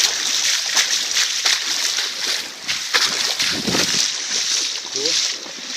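Flood water on a street in Joinville, Brazil, sloshes and splashes in a continuous hiss with occasional stronger splashes, close and fairly loud, with faint voices at times.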